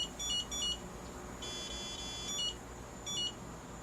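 A low-voltage alarm on an RC receiver power system, a modified iA6B receiver in a Razor 3 Footy setup, repeatedly emits high electronic beeps in short pairs and one longer tone, fairly close and with no voice.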